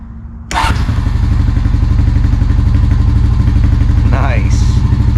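A Honda Rancher TRX350FM3 4x4 ATV engine cranks and fires after a hard-start problem, then settles into a steady, close, loud idle with a rhythmic low putter while a person speaks over it.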